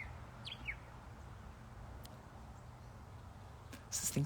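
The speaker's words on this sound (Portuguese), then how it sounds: "Vocês têm que ver o passarinho lindo que eu tô vendo." A small bird chirps outdoors, a few brief, faint tweets scattered over a quiet background hush, with a slightly louder burst of chirps near the end; no one speaks.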